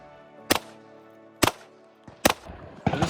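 Four loud gunshots fired at a ballistic riot glass window from close range, sharp reports spaced under a second apart, each with a brief ringing tail.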